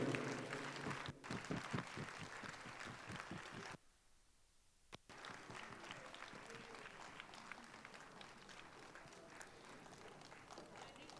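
Audience applause at a West Bengal dance group federation stage event, a broad crowd clapping that runs throughout, broken by a brief near-silent gap before resuming at steady volume.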